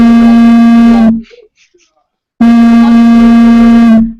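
A phone alert sounds like a foghorn: a loud, steady, buzzy low horn blast of about a second, a brief gap with faint murmuring, then a second identical blast.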